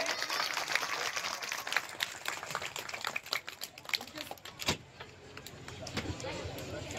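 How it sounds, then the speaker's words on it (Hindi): A crowd claps to welcome a local MLA at a school event in India, a dense ragged applause lasting several seconds that thins out toward the end. "हम सब ताली बजा करके उनका स्वागत करें"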